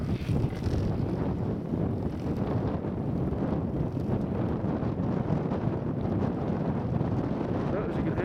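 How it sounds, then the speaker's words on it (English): Wind roars continuously across a mountain crest at a ski area, a dense loud rumble of buffeting against the microphone, steady throughout with no pauses. "The wind's picking up"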